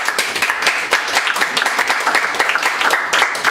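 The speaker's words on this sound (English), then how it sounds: "And another round of applause for Imad," A small audience at a chess forum gathering claps for a guest, with loud, close, individually distinct hand claps forming an irregular, lively patter.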